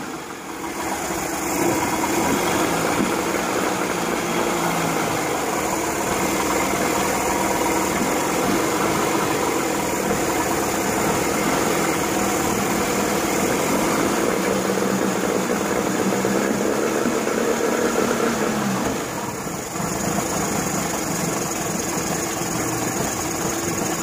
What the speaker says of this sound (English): Let's get some fuel back in it, start it back up,